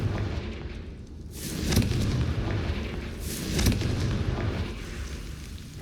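Two booming blasts from the Confringo fire spell in the video game Hogwarts Legacy, each a loud, close explosion with a roaring tail, spaced about two seconds apart over a steady low rumble, with no talking.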